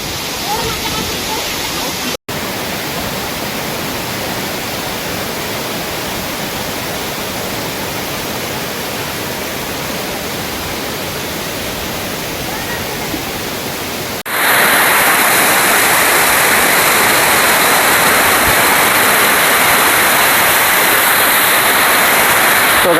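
Palaka Guda waterfall, a steady, loud rushing roar of falling water heard close and unbroken throughout, growing brighter and stronger toward the end with no voices over it.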